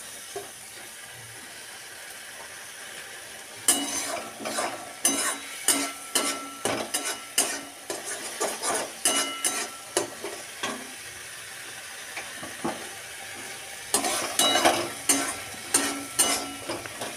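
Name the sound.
frying and stirring spice masala with a little water in a pan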